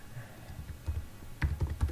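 Typing a command on a computer keyboard, a few soft scattered key taps over quiet room hiss, growing into a quicker cluster of clicks toward the end.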